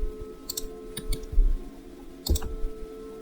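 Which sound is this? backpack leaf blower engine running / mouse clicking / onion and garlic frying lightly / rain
mouse clicking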